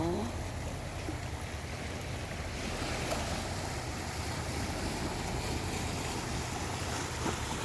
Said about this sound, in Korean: 이 파도 소리로 좀 잠시 더위를 식히시고